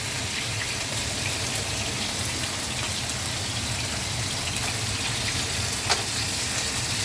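Chicken and pork for adobo fry and brown in a pan, giving a constant dense sizzle with no break and one faint clink near the end.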